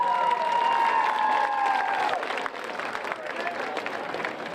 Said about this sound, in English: Let's have a big round of applause for our 2024 senior cheerleaders.